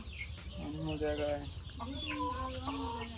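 Several brooding chickens cluck and murmur close by on a farm in a steady, overlapping chorus, with a constant fan hum in the background.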